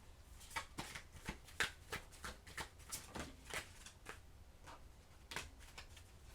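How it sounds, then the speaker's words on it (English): Tarot cards being shuffled by hand, a quiet run of soft riffling flicks and taps in a loose, uneven rhythm, close and faint. "So now let's get your last tarot cards on this."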